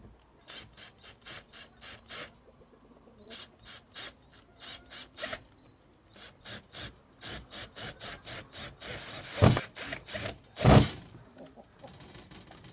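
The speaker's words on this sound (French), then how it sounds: "donc, on va venir visser ça ici." A screw being driven into an anti-pest chicken feeder, heard as a close run of short scraping, ratcheting turns in uneven bursts, ending in two louder grinding pushes.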